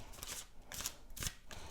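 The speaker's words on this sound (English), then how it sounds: "First, I'm just shuffling like this." A new tarot card deck shuffled by hand, with soft papery riffles and slides coming in about three quick bursts, close and quiet.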